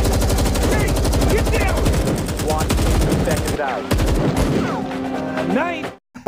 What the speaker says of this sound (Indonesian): Para polisi pun semakin marah dan terus menembakinya.